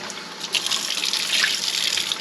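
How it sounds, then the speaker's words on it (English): Deer meat rinsed under a running tap in a sink, a steady hissing splash of water with small shifts as the meat moves under the stream, close and alone. "We're going to rinse this off. Get all that excess blood off of it."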